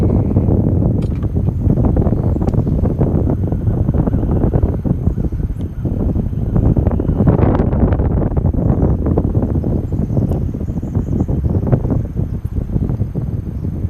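Wind buffets the microphone outdoors during fly fishing, a steady, loud, low rumble that swells in uneven gusts for the whole stretch.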